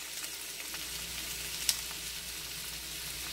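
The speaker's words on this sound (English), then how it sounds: "Now we're going to add the cabbage in there a little bit at a time" Shredded cabbage meets a hot pan of onions for Southern-style fried cabbage, giving a steady, even sizzle with one small pop partway through and no voices.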